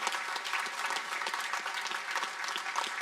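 Audience applause at a veterans recognition ceremony after the national anthem, a steady dense patter of many hands clapping close by, sustained throughout without a break.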